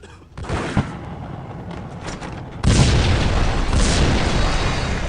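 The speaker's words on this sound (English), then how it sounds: "Another bomb exploded inside the closest slum building." A bomb goes off inside a slum building in the Max Payne video game, a loud broadband blast jumping up partway through over an already rumbling, noisy background and then sustaining as a roaring wash.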